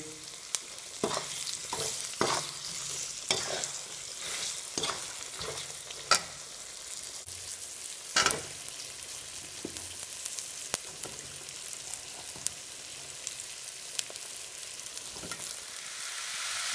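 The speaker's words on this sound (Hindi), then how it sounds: "सारी सब्जियां डाल के आप इस मसाले को इसमें मिक्स कीजिए।" Carrots, cauliflower and turnips stirred into masala in a pan for a mixed vegetable pickle, with repeated scraping and clattering stirs over a quiet sizzle, spaced irregularly throughout.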